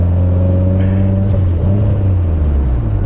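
A Mitsubishi Evo X with a large BorgWarner turbo, big cams and built internals holds a loud, steady rumbling rev close by, its pitch wavering slightly as it climbs, with no voices.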